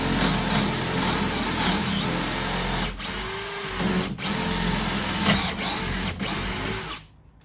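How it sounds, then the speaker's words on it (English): A hammer drill runs loudly and steadily, pausing briefly a few times before spinning down at the end. "We're on hammer drill for some reason."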